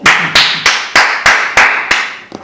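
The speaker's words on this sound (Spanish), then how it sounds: "Vamos a recibir con un fuerte aplauso al doctor Eduardo Tigua." Sharp, evenly spaced claps ring out, about seven or eight loud strikes in steady rhythm, close and clear, as listeners of a radio show applaud a psychiatrist guest.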